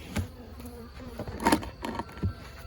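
Bees buzz and hum close by around stacked hive boxes, with a few louder passes and bumps rising over a low background drone.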